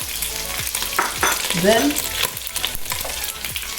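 Pork frying in two tablespoons of cooking oil, a steady close sizzle with repeated stirring scrapes and clinks of a utensil in the pan.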